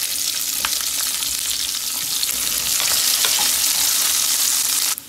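Onions frying and being stirred in a pan for masala aloo, a bright continuous sizzle with occasional scraping stir sounds, loud and close, with no talk.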